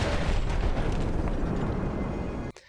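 A tank blown up in the video game Battlefield 1: a loud, dense rumbling blast that rolls on for over two seconds, then cuts off abruptly near the end.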